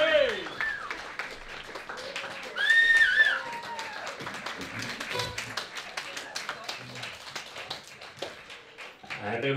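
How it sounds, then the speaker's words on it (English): Wedding guests applaud as the married couple enter, steady clapping running throughout with a loud host voice over a microphone and crowd cheers near the start. "And a huge round of applause"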